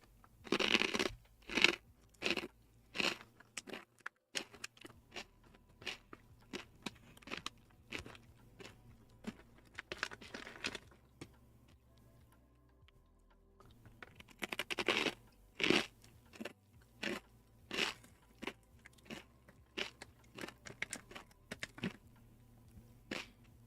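Close, crisp crunching of Bissli BBQ snacks in repeated bites and chews. The crackly bursts come in clusters, loud against quiet gaps, with no talking.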